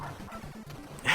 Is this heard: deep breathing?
no